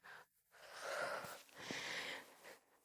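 A strong, forceful breath during a Pilates exercise, heard as a short intake followed by two long, airy pushes of exhaled air, close and alone.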